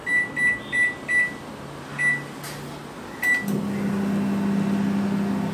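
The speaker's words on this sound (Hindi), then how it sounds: "तो 5 मिनट तक मैं माइक्रोवेव करूँगी इसे" A microwave oven beeps several times as it is set for five minutes with a bowl inside, then its door clunks and the motor starts a steady, close, low hum that runs on alone.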